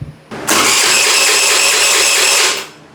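An abandoned thrift-store scooter's small engine catches after a short crank and roars close and loud for about two seconds before dying away, with no voices over it.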